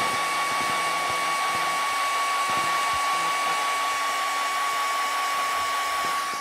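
Hair dryer blowing steadily on a sculpted rose craft piece, a loud continuous close-up whoosh with a constant whine, no pauses.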